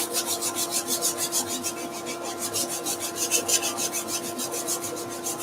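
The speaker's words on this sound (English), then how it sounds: "Sand the edge, help out the rotary sanding." Rhythmic back-and-forth hand sanding strokes rasp against the edge of a wooden spatula, close and steady, with no talking.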